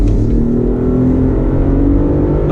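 A 2019 GMC Canyon All Terrain pickup accelerates through a bumpy right-hand bend, its engine humming loud and steady from inside the cab as the revs climb smoothly.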